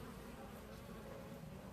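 Honey bees buzz inside a nuc box, a dense steady hum, close and fairly quiet, with no voices.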